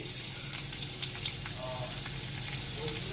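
Chopped garlic fries in white oil for lemon garlic chowmein, making a steady, bright sizzle with light crackling and a few soft stirring scrapes, close and fairly quiet.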